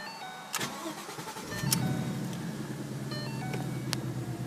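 A 2014 Ford Mustang GT convertible's engine cranks and fires up with a sharp starter burst, then settles into a steady, strong idle rumble close by, with no talking.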